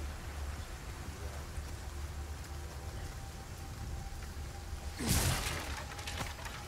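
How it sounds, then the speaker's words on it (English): Steady rain in the video game Resident Evil 4 (2023) gives a continuous soft hiss, with a louder splashing burst near the end. "It's rain. You'll be okay."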